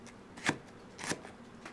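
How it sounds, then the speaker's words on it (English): A knife chopping food for chicken soup, two faint, quick bursts of chopping strikes, close but quiet, with no talk. "chopping again"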